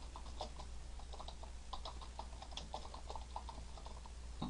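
Quiet typing on a computer keyboard, a steady patter of soft key clicks in irregular bursts, close and faint with no talking.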